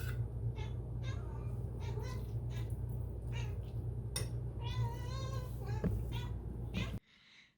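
A black cat meows repeatedly in a home kitchen as a can of tuna is opened, several short, fairly faint cries scattered over a steady low background hum, close by and without talk.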